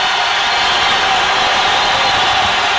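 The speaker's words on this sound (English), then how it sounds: "And listen to the crowd." An arena crowd at a Portland Trailblazers at San Antonio Spurs basketball game roars loudly and steadily as a dense wall of cheering, sustained throughout without pause.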